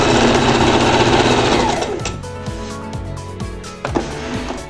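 A sewing machine stitches a blouse seam with French seams, a loud fast rhythmic whirring run that slows into separate mechanical thumps and clicks as it winds down.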